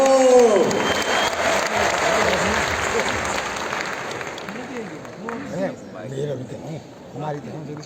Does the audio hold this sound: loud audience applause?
yes